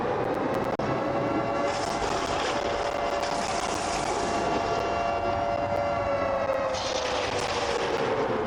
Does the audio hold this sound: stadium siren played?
yes